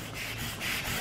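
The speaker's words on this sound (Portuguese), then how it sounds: "eu vou lixando até esse risco sumir" Close, scratchy sanding strokes rubbing car body filler in quick repeated passes, continuous and fairly loud.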